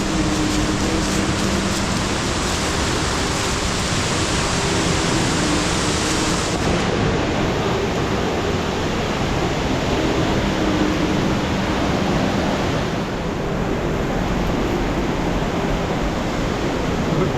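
A waterfall pours beside a cliff, its broad, steady roar filling the space continuously and close by, with no voices heard.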